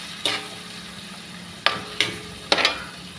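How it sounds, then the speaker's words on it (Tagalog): Shrimp paste (bagoong alamang) is sautéed in a pan under a soft, steady sizzle, broken by four sharp clinks and scrapes of a utensil stirring against the pan. "Gigisa po natin mabuti yung ating bagoong alamang."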